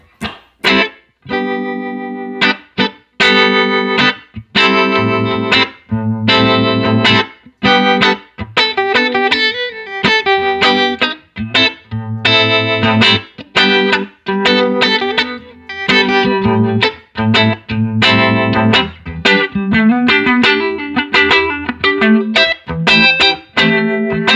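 Electric guitar through a Strymon Flint pedal's harmonic tremolo, reverb off, playing chords and single notes with a throbbing, pulsing tremolo warble, loud and close, continuous throughout with no talking.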